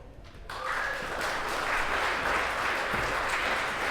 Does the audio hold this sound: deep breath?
no